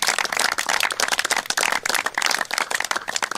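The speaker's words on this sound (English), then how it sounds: "Give yourselves a round of applause." An audience applauds at a cricket awards ceremony, with dense, steady clapping from many hands filling the room throughout and no one speaking over it.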